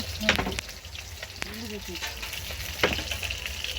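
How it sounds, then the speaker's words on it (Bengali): Fish frying in a pan on a home kitchen stove gives a steady, close crackling sizzle with occasional sharper pops, and a voice is faintly audible in the background. "মাছ ভাজা বসিয়েছ"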